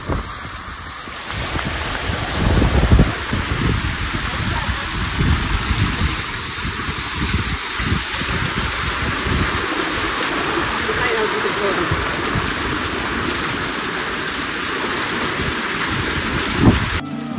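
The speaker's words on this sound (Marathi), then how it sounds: "हा पायऱ्यांवरून वाहणारा पाण्याचा प्रवाह बघण्यासारखा होता" Rainwater pours down stone steps at Visapur Fort during a downpour, a continuous loud rushing wash with the hiss of falling rain all the way through.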